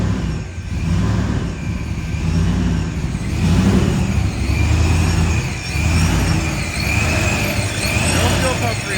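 A car engine runs steadily with the fuel pump relay pulled out, a continuous mid-pitched idle drone holding fairly loud and close for the whole stretch, with slight swells in level and no clear talk over it.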